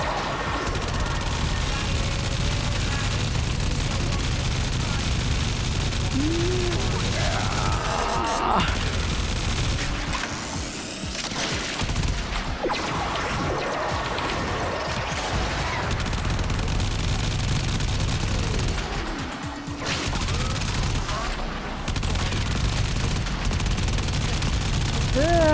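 A sustained burst of rapid automatic fire from the Arch-Gun machine gun in Warframe, hosing steadily for about twenty-five seconds, loud and close, with brief dips and a voice talking over it.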